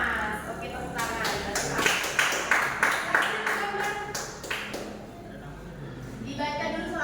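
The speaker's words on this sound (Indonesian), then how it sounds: "Oke, tepuk tangan" Classroom applause during a lesson: a burst of quick, uneven hand claps fills the room for several seconds, with scattered taps trailing off and children's voices audible near the end.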